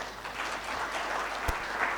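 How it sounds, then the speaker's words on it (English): A convention audience at an aviation stakeholders event claps in steady, moderately distant applause throughout, with one sharp thump partway through. "I want an applause for everyone."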